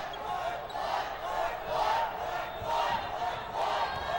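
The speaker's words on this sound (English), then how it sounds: "And the crowd yelling," A high school girls' basketball crowd at a state tournament quarterfinal yells and cheers in waves late in the game, a dense roar rising and falling every second or so.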